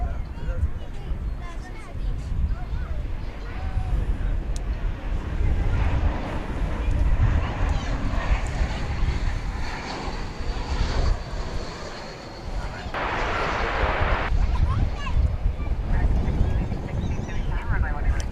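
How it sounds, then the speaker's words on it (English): American Airlines Flight 372 from Liberia, Costa Rica, wearing Stand Up to Cancer livery, arrives at DFW Airport with a steady, moderately loud engine rumble and a brief hissing swell near the end, while a person talks over it. "American Flight 372 coming in from Liberia with the Stand Up to Cancer livery."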